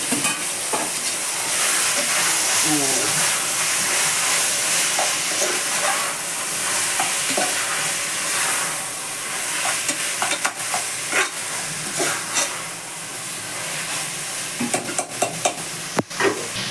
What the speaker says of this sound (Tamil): தக்காளி எண்ணெயில் போட்டு நல்லா வதக்கி வைக்கணும்.